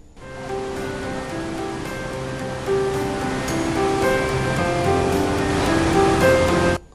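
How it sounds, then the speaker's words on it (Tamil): Surplus water gushes from the 16 sluice gates of the full Mettur dam, a loud, steady roar of rushing water that continues unbroken with no voices. "மேட்டூர் அணை 42வது முறையாக முழு கொள்ளளவை எட்டியதால் 16 கண் மதகுகளிலிருந்து உபரி நீர் திறந்து விடப்பட்டிருக்கிறது"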